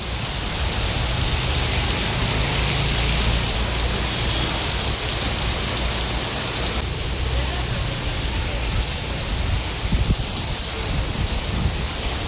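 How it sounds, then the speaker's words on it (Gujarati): Heavy rain pours down in a dense, constant hiss, loud and unbroken for the whole stretch. "ફૂલ વરસાદ આવે છે અત્યારે."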